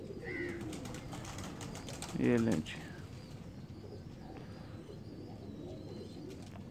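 A pigeon gives a single short, throaty coo close by, while someone talks in the background and faint shuffling and tapping continue.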